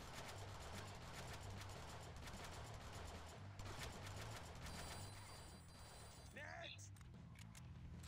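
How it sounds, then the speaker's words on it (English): Rapid bursts of distant gunfire in a video game crackle over a constant low droning hum, with a brief whooshing sound near the end. "I hear gunfire"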